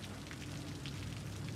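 Steady rain falls in the city-building game Cities Skylines, a continuous even hiss of rainfall with a soft low rumble beneath, holding level throughout with no voices.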